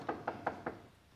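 Four quick, evenly spaced knocks on a door, moderately close and fairly quiet, with a short silence after.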